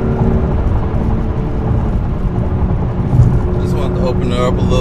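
A BMW M2 Competition pulls hard from inside the cabin, its engine a loud, steady roar with rising tones near the end and a voice briefly audible over it.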